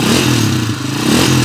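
A motorcycle engine revs loud and close in neutral, with a steady rough mechanical roar and some clatter throughout.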